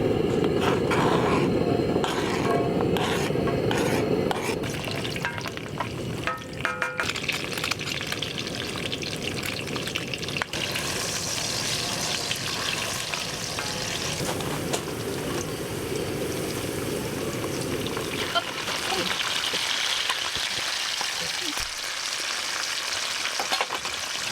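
Oil sizzling in a pan while frying food at a campsite, a loud continuous crackling hiss that changes texture partway through as the food is stirred, with no talking.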